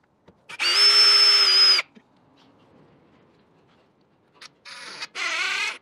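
A power drill cleans out a screw hole for a stainless screw holding a rod buckle, giving a loud steady whine for about a second, then a quiet pause and two shorter close bursts.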